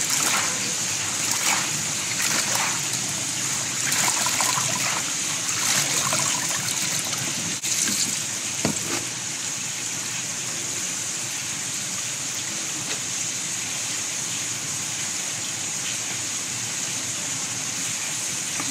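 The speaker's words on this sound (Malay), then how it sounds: "Kita cuci daun pegaga ya guys." Pegaga leaves are rinsed and swished in clean water, giving a continuous soft trickling and splashing with occasional louder sloshes, alone and fairly close.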